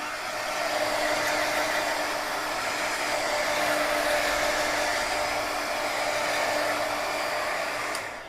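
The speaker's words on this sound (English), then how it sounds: "I'm going to go ahead and dry it here with my heating tool" A craft heat tool blows steadily to dry alcohol ink on porous card stock, a loud continuous whooshing drone that holds for several seconds and eases off at the end, with no speech.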